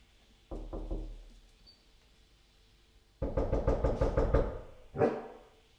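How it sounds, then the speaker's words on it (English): A dog named Inca barking at the door, a few short bursts near the start, then a louder, more insistent cluster of barks and a final single bark, heard close and alone. "So Inca's barking is getting a little less intense there."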